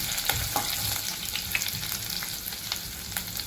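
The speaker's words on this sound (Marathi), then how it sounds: "कढीपत्ता, अद्रक अगदी बारीक चिरून घेतलेला आहे, हे छान परतून घेऊ" Finely chopped curry leaves and ginger sauté in a hot pan, giving a steady crackling sizzle with light scraping stirs throughout. No one speaks.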